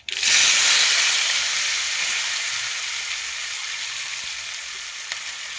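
Chili, tomato and ginger sizzle loudly as they fry in hot oil for Gujarati dal, a steady bright hiss that starts abruptly and holds close and even throughout.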